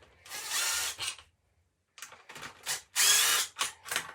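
A ratchet wrench works the brake caliper bolt on a 2021 Kawasaki KX450X, a series of close metallic clicking bursts separated by pauses, with a silent gap early on.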